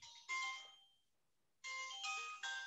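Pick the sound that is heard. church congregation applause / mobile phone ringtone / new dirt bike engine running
mobile phone ringtone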